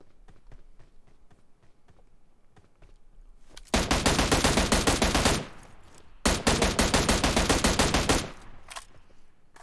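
Automatic gunfire in the PUBG Mobile battle royale game, starting with faint distant pops and then two loud, rapid close-range bursts of roughly two seconds each, with a short gap between them.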